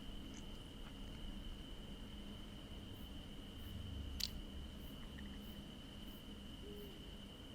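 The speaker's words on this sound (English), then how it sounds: "I can hear something in the distance." A cicada buzzing far off at night, a thin, steady high drone holding unbroken beneath faint room noise from a running computer, with one brief click partway through.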